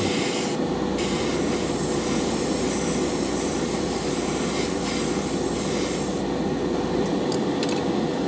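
A Grex Genesis GSi paint spray gun sprays coating onto spoons, giving a loud, close, continuous airy hiss that holds steady throughout with only slight dips in tone.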